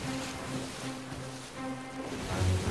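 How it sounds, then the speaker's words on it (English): Ocean waves in the pirate sailing game Sea of Thieves, a broad rushing surf wash with wind noise and faint creaking from a boat, continuous and fairly loud with no talking. "These waves are crazy."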